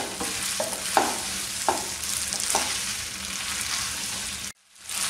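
Boiled spaghetti is stirred into chicken mayo masala in a pan, a steady close sizzle with soft scraping strokes, then a sudden brief drop to near silence before the sizzling resumes.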